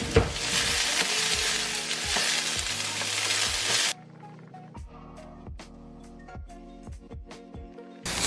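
Onion with cumin sizzles in olive oil in a pan, a loud frying hiss for about four seconds that then drops away, leaving a quieter pan with repeated sharp stirring knocks and taps.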